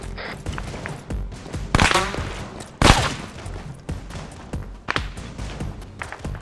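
Gunfire in a military shooter video game during a beach operation, with rapid volleys of shots and sharp thumping impacts, several louder close bursts standing out over a busy, continuous battle background.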